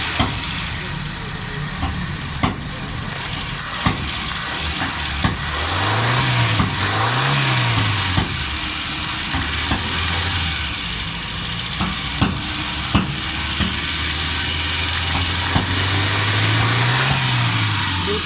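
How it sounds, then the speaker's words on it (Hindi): A Suzuki Alto 1000cc petrol engine idles steadily up close, with a few brief revs rising and falling over a constant rumble and background noise. "माशाल्लाह गाड़ी स्टार्ट है"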